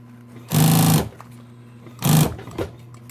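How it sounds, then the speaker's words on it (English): A sewing machine stitches along a curved seam in two separate bursts, the first longer, each a steady motor whir with fast needle chatter, close and loud against a quiet background. "Stitch it along. Work around that curve."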